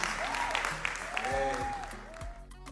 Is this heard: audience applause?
yes